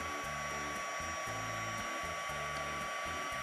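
A heat gun blows hot air over embossing powder on cardstock, producing a steady, continuous whooshing hum with a low motor drone underneath, alone and unbroken.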